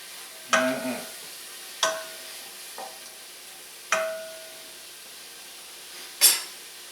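Mushrooms in olive oil in a pot, a few sharp stirring scrapes and clatters at irregular intervals over a faint sizzle, close and otherwise quiet, no talk.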